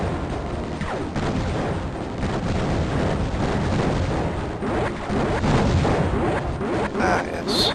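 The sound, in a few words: bombs exploding in the video game Raptor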